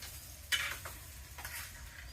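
Fish frying in oil in a home kitchen pan, a low steady sizzle with a couple of brief scraping stirs of the pieces, close and fairly quiet, no one speaking.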